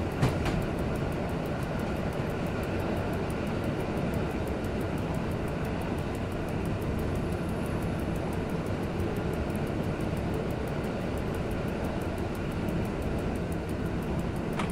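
Train running in the SimRail simulator: a continuous loud rumbling drive with evenly repeating rail clicks throughout, steady and close, with no talk.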